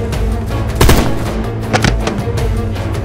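Gunfire in a Turkish war drama scene: a few sharp, loud shots crack out close by, one heavier burst near the start and another about a second later, over a rumbling battle background.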